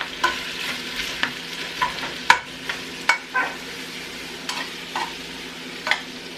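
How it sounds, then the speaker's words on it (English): Beef tossed into a pan of hot oil fries with a steady low sizzle, broken by repeated sharp scraping and stirring clicks at irregular intervals, close and fairly loud with no talking. "I'm just gonna toss it in there with all that oil."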